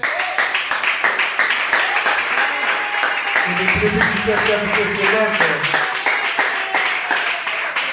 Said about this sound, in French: Je demande le 7e psaume de se lever avec des applaudissements